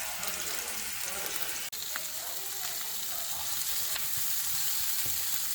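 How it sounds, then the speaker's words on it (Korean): Pork belly and onions sizzle loudly and continuously in a hot pan, with an occasional clatter of a utensil. "삼겹살 넣고 이 양파를 볶아줄 거예요"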